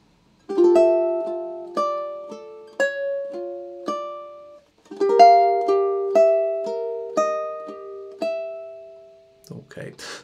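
On ukulele, the melody of a theme from The Legend of Zelda is played as a run of clear single plucked notes that each ring and fade, with a short pause midway, close and with no talking.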